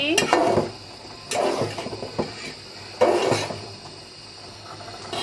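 A pot of coconut water lily curry being stirred after it comes to a boil, with three bursts of scraping and clattering from a spoon against the pot, separated by quieter simmering pauses.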